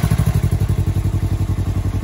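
A 2021 Can-Am Ryker 600 three-wheeler engine runs close and loud with a rapid, even pulsing chug, no voices over it.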